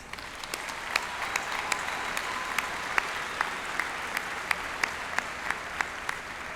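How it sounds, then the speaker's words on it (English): Steady applause from a commencement audience honoring college alumni, a dense wash of many hands with distinct claps popping out, sustained and even throughout without pause. "Please join me in giving them a round of applause"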